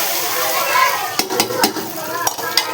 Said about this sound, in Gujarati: ચાલો ઢોકળાનો વઘાર કરી નાખીએ